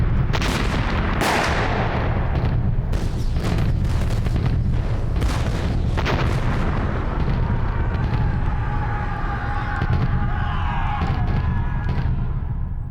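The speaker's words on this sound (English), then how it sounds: "After 3 days of heavy bombardment," Crimean War artillery bombardment, a dense series of loud booming blasts and cannon shots with rumbling echoes, thinning out toward the end under a distant roar.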